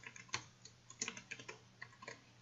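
Quiet, close keystrokes on a computer keyboard, a quick irregular run of about a dozen light clicks spread over a couple of seconds.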